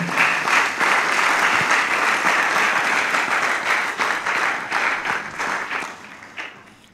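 A church congregation bursts into loud, steady applause that fills the room, many hands clapping together before the sound tapers off toward the end.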